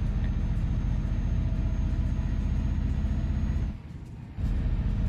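A truck engine in Euro Truck Simulator 2 drones loud and continuous, then briefly drops away before returning, with no voices.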